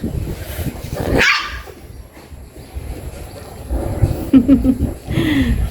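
Dogs bark in short bursts outdoors, a few sharp yelps standing out over a busy, noisy background.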